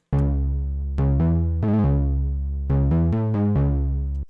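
A clean synth preset in FL Studio, undistorted, plays a melodic line of sustained tonal notes with a few quick rapid stutters, loud and close with no voices.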